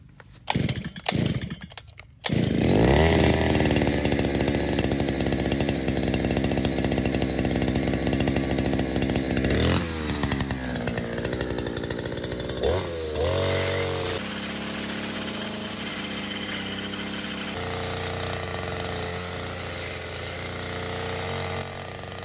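Small two-stroke grass cutter engine, freshly fitted with a replacement gear case and small handle, starts with a few pulls then runs loud and close, revving high and settling to a steady buzzing drone.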